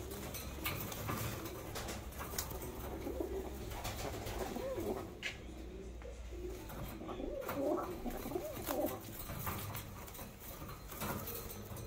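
Budapest Deres Goylak pigeons coo softly and continuously inside a loft, several birds layered together with faint rustling and scuffling in the background.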